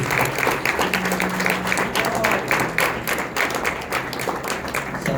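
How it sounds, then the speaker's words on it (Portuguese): A church congregation claps together in a fast, steady rhythm that fills the room, with voices and music faintly underneath. "palmas para Jesus."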